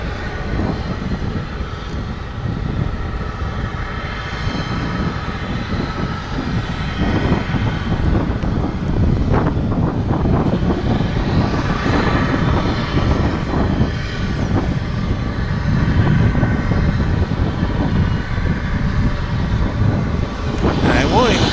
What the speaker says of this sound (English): there's a Frontier Flight 2711, an Airbus A320 which is bound for San Francisco